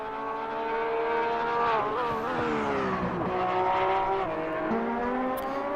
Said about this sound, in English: Driving pretty hard in the Porsche.